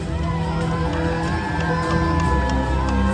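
Crowd roaring and cheering at Singapore's National Day Parade, a dense wash of shouts and whoops from many voices that swells slightly toward the end.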